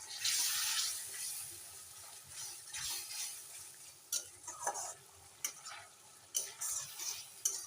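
Tarka dal is stirred in a pan, giving soft scraping and sizzling with a few sharp clinks of a spoon against the metal. The sound is fairly quiet and close.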